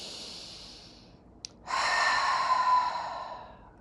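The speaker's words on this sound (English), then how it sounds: "Take a deep breath in through your nose and exhale fully through your mouth." A slow breath drawn in through the nose, followed by a fuller, louder exhale that trails off gradually. It sounds close and quiet.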